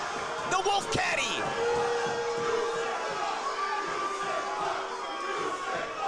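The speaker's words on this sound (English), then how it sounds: "The crowd right now is sharing my sentiments." Wrestling crowd at a men's tag team match cheers, whoops and shouts in a loud, steady roar, with a brief louder burst near the start and commentators talking over it.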